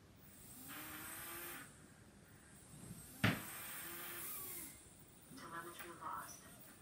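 Small whoop FPV drone motors spinning up at low throttle, producing a few brief whirring hums that rise and stop in separate bursts, with a sharp click midway and a voice talking underneath.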